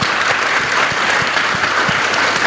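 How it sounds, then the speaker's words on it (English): A convention audience gives a loud, dense round of applause for guests after an art panel, continuous close clapping with no speech. "Please have a round of applause for our guests."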